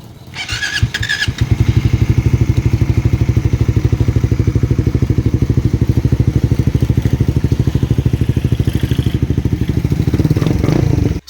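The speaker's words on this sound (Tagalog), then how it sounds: "start na ni sir ang kanyang motor na Rider 150 gamit ang ating" A Honda Rider 150 motorcycle engine on a LiFePO4 battery cranks briefly, catches, and settles into a loud, steady, throbbing idle that runs for several seconds before cutting off.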